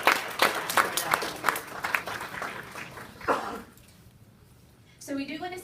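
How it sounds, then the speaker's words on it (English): Applause from a room full of people at a transportation event, a dense burst of clapping that fades after a few seconds before a voice begins speaking. "Let's give everyone in the room a round of applause"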